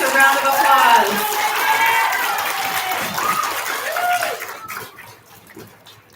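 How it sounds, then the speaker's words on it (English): An elementary school audience claps for first grade students, a dense burst of applause that thins out and fades, with voices mixed in. "Let's give our first grade students a round of applause."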